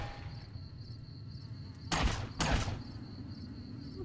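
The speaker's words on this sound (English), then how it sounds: "I'm shooting." Two loud close gunshots in Fallout New Vegas, sharp bangs about half a second apart, set against a quiet ambient hum with a faint high-pitched whine.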